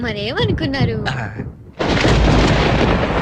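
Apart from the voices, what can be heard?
thunder and rain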